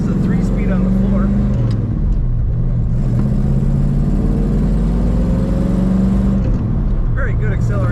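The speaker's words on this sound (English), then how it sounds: "Very good acceleration from this vehicle." A 1937 Ford Deluxe Sedan with a three-speed floor shift drives and accelerates, its engine note rising through the gears in a steady close drone from inside the car, with a brief dip as a shift is made.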